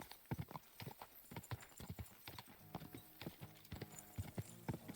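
Horse hooves in the video game Kingdom Come: Deliverance 2 clip-clop in a quick, steady gallop rhythm, fairly faint and continuous for several seconds, with no talk over them.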